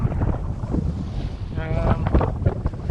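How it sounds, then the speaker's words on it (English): East-northeast wind buffeting a sailboat at sea, a gusty roar of wind against the microphone with water washing underneath, loud and continuous for a few seconds. "All this goofy wind is just being created by Puerto Rico."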